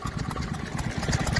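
Vintage Lister stationary diesel engines run at a show's engine pen, a steady mid-level chugging idle with rapid, even low thumps heard close by and no talk.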